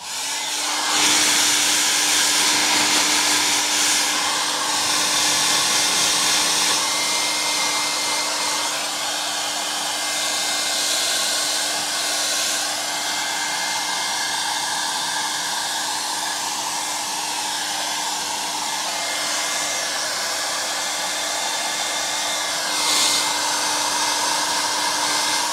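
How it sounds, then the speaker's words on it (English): A hair dryer drying fresh paint on a leather steering wheel blows steadily and loudly from start to finish, a continuous whooshing hum with a faint whine, never pausing. "I'm going to grab that hairdryer again, and just dry this layer of paint that I've just put on."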